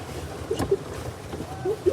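A boat glides across the water on a ride at Bannerughatta Biological Park in Bengaluru, with a low rumbling wash, brief tonal calls and faint voices drifting in the background.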